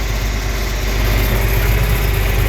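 A John Deere 4320 tractor engine running on a farm during wheat harvest: a steady, loud low diesel rumble with constant vibration throughout, no voices.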